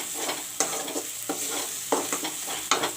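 Masala frying in a pan for egg kosha, with a continuous close sizzle broken by several sharp scraping strokes of a spoon stirring at irregular intervals, no voices.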